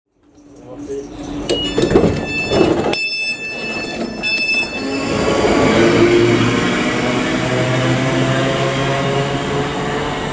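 A train on the Argyll line in Strathclyde makes a few sharp knocks and clanks, then settles into a steady, fairly loud rolling rumble with faint wheel squeal and a thin high whine running through it.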